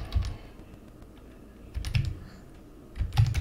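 Keys clatter on a computer keyboard in three short bursts of typing separated by quiet pauses, close and fairly soft.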